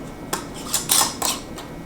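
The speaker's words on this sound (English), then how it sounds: "barely tighten them, hand tighten them" Glass pickle jars having their metal lids screwed down by hand, giving a few brief, close clinks and scrapes spaced through a quiet moment.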